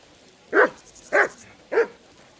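A dog in the video game Kingdom Come Deliverance 2 barks three times at an even pace, each bark short, clear and close.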